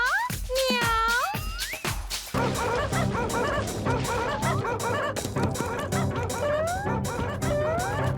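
A cartoon dog in a Motu Patlu episode barks and yips rapidly and repeatedly, close and loud. High whining squeals come first, then a continuous run of excited barking with a busy background.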